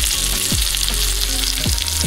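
Mackerel (bangda) fries in a pan with a loud, steady sizzle and crackle of hot oil throughout, close up with no talking.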